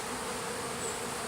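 A dense, continuous buzz of many honey bees swarming close around a hive during robbing, steady and fairly loud with no voices.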